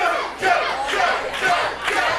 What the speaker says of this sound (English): And the crowd really getting behind the man from Derby right now.